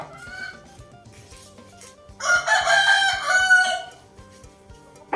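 A rooster crows loudly and nearby, a long drawn-out call in the middle, over quieter background clucking and rhythmic knocking.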